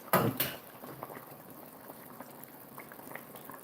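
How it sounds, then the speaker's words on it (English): Italian wedding soup with meatballs and spinach at a high rolling boil, boiling over in a pot on a home kitchen stove: a loud burst of bubbling and sputtering at the start, then a steady low simmering hiss throughout. "ooh, that is a high boil."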